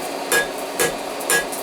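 Three ringing hammer blows strike hot steel on an anvil while a coal shovel is forged, evenly spaced about half a second apart, loud and close, with a bright metallic ping on each hit and no talking.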